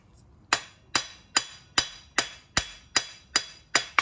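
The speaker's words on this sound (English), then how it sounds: "Hammer polishing in the falling heats, basically in the transitional temperature." A hammer strikes hot steel, polishing an octagon bar at a coal forge in the falling heat. Nine crisp, ringing blows land at a steady rhythm about every 0.4 seconds, close and bright, with no talking.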